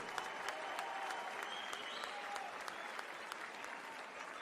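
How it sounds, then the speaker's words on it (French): A crowd applauding two boxers after an influencer boxing match at the Palais des Sports in Marseille, a continuous dense roar of clapping that fills the arena, with a faint voice or two underneath. "je voudrais qu'on les applaudisse avant tous les deux comme il se doit"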